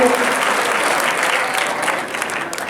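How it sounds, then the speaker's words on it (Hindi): An audience applauding a director at an event in Darbhanga, a dense sustained burst of clapping from many hands, loud and close, fading slightly toward the end. "एक बार उनके लिए जोरदार ताली होनी चाहिए।"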